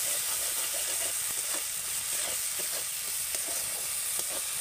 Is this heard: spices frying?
yes